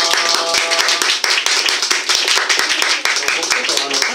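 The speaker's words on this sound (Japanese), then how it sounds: "拍手でお迎えします" At a live show in a café, the audience claps to welcome a guest, a loud, close run of rapid claps continuing throughout with voices faintly underneath.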